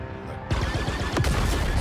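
Rapid turret gunfire in the Star Wars Outlaws video game, a loud burst of dense blaster shots that starts abruptly after a brief quieter moment and keeps going.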